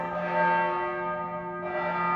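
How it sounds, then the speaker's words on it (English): A loud, resonant bell rings with a sustained, shimmering tone that swells and briefly dips before ringing on. "The bell is ringing."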